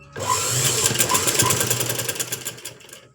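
A sewing machine stitches cloth laid under a kaja patti buttonhole strip, running in a fast steady mechanical rattle close by, then slowing and fading out toward the end.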